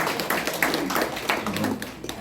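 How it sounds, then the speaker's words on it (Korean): Audience applause at a ceremony marking the 100th anniversary of Han Yong-un's poetry collection: a brief spell of scattered, fairly faint clapping from a small crowd. "멀리 계시지만 박수 한번 쳐주십시오"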